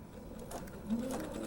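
A sewing machine stitches a quilt seam with a steady, fairly quiet mechanical whir, alone with no talk.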